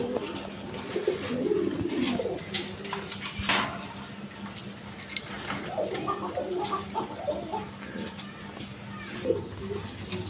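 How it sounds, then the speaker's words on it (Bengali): Red Rasgolla pigeons cooing in soft, low repeated calls amid a busy background of other birds, clattering and someone talking over them. "এখানে রেড কালারের আপনার রাসগোল্লা কবুতর আছে খোপা ছাড়া"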